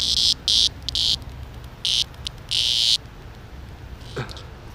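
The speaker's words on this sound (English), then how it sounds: "Check out the cicada." Loud buzzing cicada calls in on-and-off bursts, harsh and high, pulsing over a quiet outdoor background.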